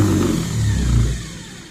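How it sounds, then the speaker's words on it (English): Dodge D300 starter motor cranking on a bench test, a loud low churning drone for most of the clip before easing off toward the end. "I'm starting it here from the ignition switch. As you can see, it's cranking."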